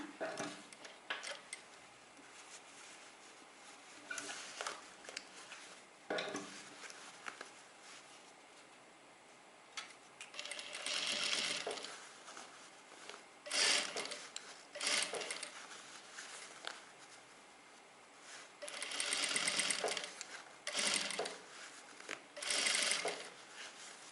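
A sewing machine stitches a trouser waistband in several short bursts of fast whirring, separated by quiet pauses and soft handling noises, close and clear.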